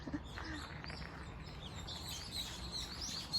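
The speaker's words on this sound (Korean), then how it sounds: "새들만 지저귀는 소리가 들리고요." Wild birds chirp at dawn at Namguksa, a Buddhist temple in Jeju City, giving several light, fairly distant tweets over a soft, steady outdoor hush, with no one talking.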